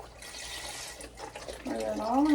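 Beef broth pours steadily into a pot with a gurgling, splashing flow that grows louder toward the end, with faint clatter at the start.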